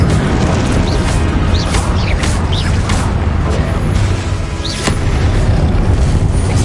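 A Confringo blasting spell from the Hogwarts Legacy video game goes off in a loud, booming explosion over dense rumbling battle noise that fills the scene.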